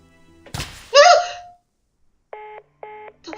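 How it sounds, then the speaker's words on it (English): Telephone in the game Reverse: 1999: a handset thunks and rattles, a short electronic warble follows, then a series of three evenly spaced disconnect tones, clear and close. "Looks like the phone got disconnected."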